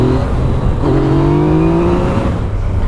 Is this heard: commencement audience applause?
no